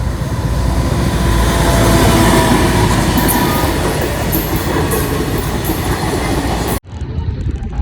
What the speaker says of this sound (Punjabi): ਕੋਈ ਟ੍ਰੇਨ ਆ ਚੁੱਕੀ ਆ ਰਹੀ ਆਪਣੇ ਟ੍ਰੇਨ